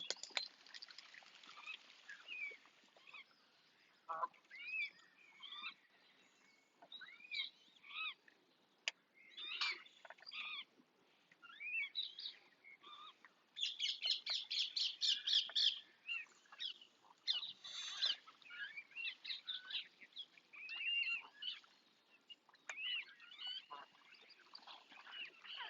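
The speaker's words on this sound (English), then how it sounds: "Beautiful little ducklings swimming with their parents." Ducklings and parent ducks on the water give soft, distant peeps and quacks, a scattered chatter of small calls with a denser burst of chirping midway, faint against a quiet outdoor background.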